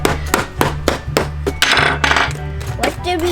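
A hammer repeatedly bashing a plastic toy mystery capsule, a rapid series of loud, sharp knocks and clacks in close succession, with a denser rattling crunch midway.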